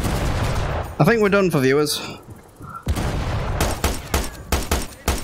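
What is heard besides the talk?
blind gunfire in video game Sniper Elite VR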